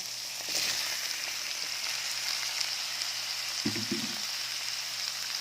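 Papaya pieces tumbling into a hot pan, a continuous bright sizzle of frying oil with a soft thump and a short low clatter midway as the food lands, no talking over it.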